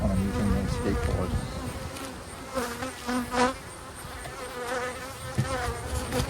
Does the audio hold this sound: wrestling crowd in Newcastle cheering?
no